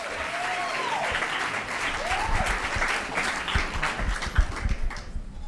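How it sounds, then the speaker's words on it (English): Studio audience applauding and cheering to welcome a guest onto a show, steady dense clapping at moderate distance, with a couple of faint whistles early on, continuing throughout. "Keep clapping and let's welcome Ann Abel, everybody"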